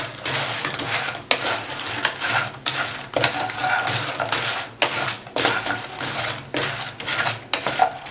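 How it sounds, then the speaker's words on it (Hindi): Bread bites being stirred and mixed in a pan, with repeated scraping and clattering strokes in an uneven rhythm, close and fairly loud. "अब ये बाइट्स डाल देने हैं इसमें और इनको मिक्स कर लेना है अच्छी तरह से आपने"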